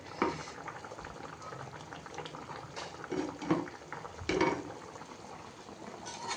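Fish curry gravy bubbling and simmering in a pot, a steady soft boiling with occasional louder pops and bursts, close by and alone.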